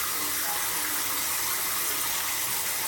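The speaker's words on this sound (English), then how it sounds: "So we're going to rinse that off" Steady running water from a tap rinses soap off a hand, a close, continuous hiss-like gush that holds evenly throughout with no talking.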